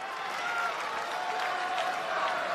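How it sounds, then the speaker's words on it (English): A packed WWE Monday Night Raw main-event arena crowd roars and cheers steadily, a dense, continuous wall of sound with sung chanting woven through it, no talk over it. "An electric crowd here tonight, singing Seth's song"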